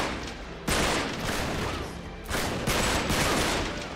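Gunfire in the PS4 video game Uncharted 3: Drake's Deception Remastered: loud, dense bursts of shots that swell twice into sustained volleys, with no voices.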